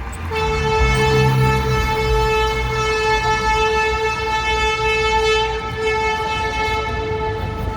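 A loud, steady ambulance horn blares continuously for several seconds, a sustained multi-tone blast over low rumbling traffic noise in downtown Chicago, Illinois.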